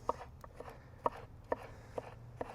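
A knife chops fresh cucumber into diamond-shaped pieces on a cutting board, about five crisp, evenly spaced knocks heard up close with quiet room noise between strikes and no talking.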